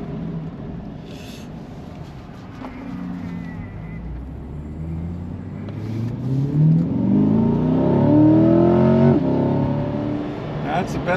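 A C8 Corvette launches hard from 0 to 60 mph, its engine roaring loudly up through the revs with a rising, strained note that swells toward the end of the run.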